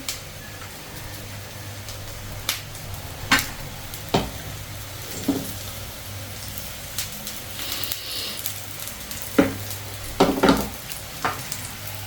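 Pooda batter spread in a round on a hot pan with a faint steady sizzle, broken by scattered clicks and scrapes of the spreading spoon, with no talk.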